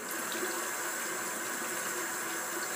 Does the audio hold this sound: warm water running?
yes